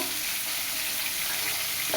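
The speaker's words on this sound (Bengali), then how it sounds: "এখন তেলাপিয়া মাছগুলো সব ভেজে নিব" Tilapia fish fries in hot oil with a dense, continuous crackling sizzle, steady and close, with no talking.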